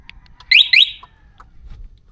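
A locked car's two-way alarm gives two loud, shrill electronic chirps in quick succession, then goes quiet over a low background hum.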